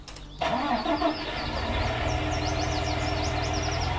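A tractor engine in Landwirtschafts-Simulator 19 cranks and catches with a sudden onset, then settles into a steady rumbling idle close by, with faint chirping ambience above.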